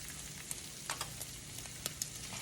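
Sausage gravy with black pepper stirred in a frying pan, a soft, low simmering sizzle with several light clicks of a utensil against the pan.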